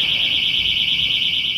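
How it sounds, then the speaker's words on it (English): A boat's security door alarm sounds a steady, piercing electronic tone continuously at one pitch, loud and unbroken throughout, with faint background rumble beneath. "hear what happens when I trip the door alarm"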